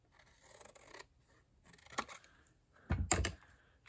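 Scissors snipping through a paper card sample, a few short, quiet crisp cuts close by, with a louder cluster of snips near the end.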